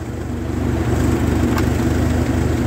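A 1949 Ferguson TE20 tractor engine idles steadily up close, a low rhythmic chugging with regular firing pulses and a faint mechanical rattle, running alone with no talk.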